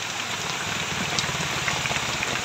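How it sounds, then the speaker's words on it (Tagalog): Heavy rain pours steadily and densely, a loud continuous roar with scattered louder drops, no voices. "Ayan po yung ulan, oh. Ayan. Masyado po malakas."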